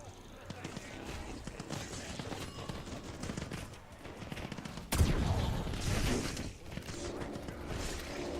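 Gunfire in a Black Ops 7 Zombies video game, bursts of rapid shots with a sharp loud blast midway, mixed with mechanical clatter and voices talking over the action.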